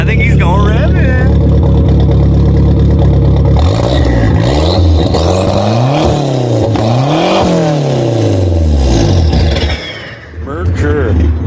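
A Merkur XR4Ti engine idles, then is revved repeatedly in loud rising and falling sweeps before settling, heard close up, with people talking over it.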